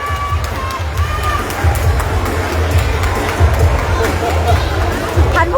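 A stadium crowd cheers through a Muay Thai fight at Patong Boxing Stadium, a steady roar of voices and shouts with bursts of applause, sustained and loud throughout.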